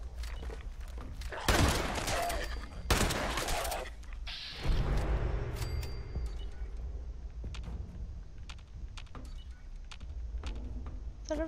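Gunfire in the video game Fallout 76: several sharp, loud bursts of shots in the first few seconds, then scattered single cracks over a steady game background.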